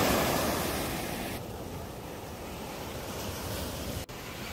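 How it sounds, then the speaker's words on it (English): Ocean waves break on the beach in Busan, a continuous close rushing surf roar mixed with wind buffeting the microphone, with no talking. "Excuse the noise, it's the waves."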